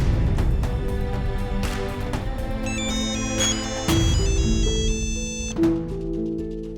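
A phone ringtone plays loudly and alone while a call is being placed, a repeating electronic melody of bright tones over steady background.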